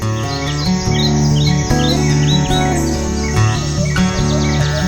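Small birds chirp and tweet in quick, repeated calls, bright and fairly close, woven over a sustained musical backing throughout.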